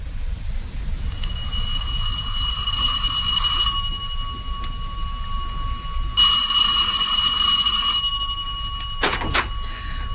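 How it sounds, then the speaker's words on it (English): Front doorbell ringing persistently as a radio drama sound effect, a bright electric bell sounding in long sustained bursts with short pauses between, loud and close over a steady low hum, ending in a clatter. "I was in the study when the front doorbell rang"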